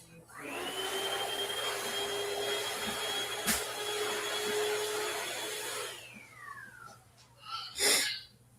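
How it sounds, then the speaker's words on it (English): A vacuum cleaner sucks up dust, starting with a whine, holding a loud steady roar for about five seconds, then winding down with a falling pitch, followed by a few brief bumps and a sniff. "You gotta vacuum the dust first before you spray the water."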